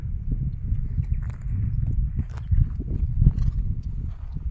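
Soft, irregular hoof clops from horses walking at a slow pace, mixed with low rustling and shuffling close by.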